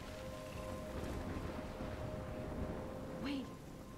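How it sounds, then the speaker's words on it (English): Steady rain and stormy wind from the video game Life is Strange, a dense, continuous wash of noise with a faint low rumble. A brief voice sound rises near the end. "It's raining."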